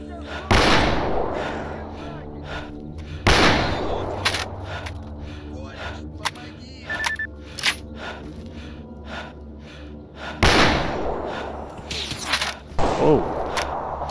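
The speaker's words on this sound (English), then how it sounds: "We got somebody with a sniper rifle or something." Sniper rifle shots in the video game STALKER Anomaly, a few loud, sharp cracks spaced seconds apart with echoing tails, while a person talks and gasps between them.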